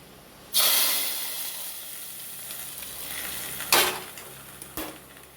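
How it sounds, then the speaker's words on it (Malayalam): A sudden loud sizzle bursts out as curry is poured into a hot pan of fried mustard seeds, settling into a hissing fry, with two more sharp sizzling bursts later. "കടുക് വറുത്ത ചീനിച്ചട്ടിക്കകത്തോട്ട് കൂട്ടാനൊഴിച്ച്"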